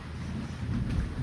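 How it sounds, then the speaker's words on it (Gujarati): Thunder rolls during a violent storm in a village near Botad. A low, continuous rumble mixes with a rain-like hiss and swells briefly near the end, with no talk. "ગાજગીજ ચાલુ છે મિત્રો"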